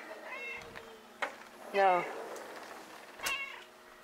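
A cat meows several times, close by, with short rising and falling calls spaced across a few seconds, a person briefly speaking between them.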